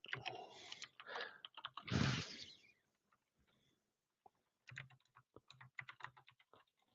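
Computer keyboard typing in two bursts of quick, uneven clicks with a pause between, fairly close, and a short louder rustle near the start.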